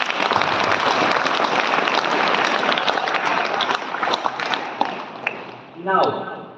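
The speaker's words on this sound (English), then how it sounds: "A big round of applause for sir." Loud audience applause at a school event at Pratham International School in Rewari fills the room, fading slightly near the end as a voice begins to speak.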